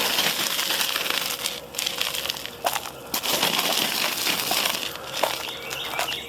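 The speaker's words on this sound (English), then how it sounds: "Alright, roll it out." A roll of mineral surface roofing is unrolled over a front porch roof, giving a continuous gritty crackling and rustling with scattered sharper crunches and no talk.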